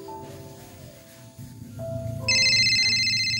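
A telephone ringtone kicks in near the end, a loud steady electronic warble that follows quieter background sounds and music-like tones.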